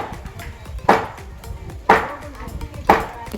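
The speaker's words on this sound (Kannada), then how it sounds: "ಅಲ್ಲಿ ನೋಡಿ ಹೆಂಗೆ ಕಟ್ ಮಾಡ್ತವ್ರೆ" A home cook slicing onions and tomatoes with a knife in a village kitchen for chitranna, three sharp chops spaced about a second apart over a steady murmur of background noise.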